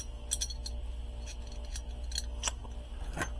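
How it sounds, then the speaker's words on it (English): Metal parts of a 1911 pistol with a bull barrel being reassembled, the recoil system slipped into place: a run of small, close clicks and scrapes of steel on steel at an irregular pace. "Put it together, slip in the recoil system"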